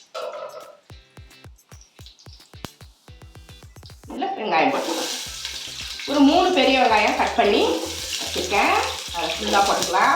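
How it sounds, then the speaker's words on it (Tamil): Whole spices such as cinnamon, cloves, cardamom and fennel dropped into hot oil and ghee for a chicken biryani, a loud burst of sizzling and crackling that swells after a stretch of sharp clicks, with a person talking over it. "எண்ணெயும் நெய்யும் சூடாயிருச்சு தாளிக்கிறதுக்கு பட்டை கிராம்பு ஏலக்காய் சோம்பு"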